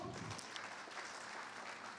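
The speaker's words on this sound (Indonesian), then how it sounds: "boleh minta tepuk tangannya Bapak dan Ibu?" An audience of men and women applauds at an Indonesian forum on digital innovation and economic growth: a faint, even patter of clapping heard from a distance.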